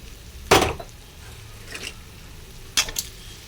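Snails stirred and sautéed in a spiced masala, giving a couple of sharp utensil scrapes and clatters against the pan over a faint background sizzle, with quiet gaps between strokes.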